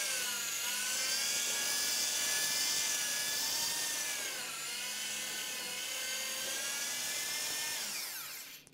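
A mixer drill churns plaster filler with a mixing paddle, a loud, steady high-pitched whine that dips slightly midway and then winds down at the end. Nobody speaks.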